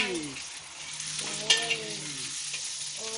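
Hot oil sizzling steadily in a frying pan, a close, bright hiss running throughout, with someone talking over it and a brief clink of a utensil midway.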